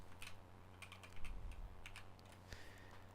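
Typing on a computer keyboard while working in Unreal Engine, with a quick irregular run of soft, close key clicks over a low steady hum.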